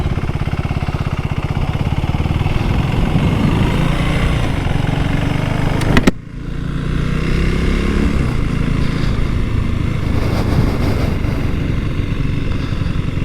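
A 2024 KTM Duke 390 motorcycle engine idles and revs steadily with a stock exhaust, fairly mellow and close, a short sharp drop midway before the steady drone resumes.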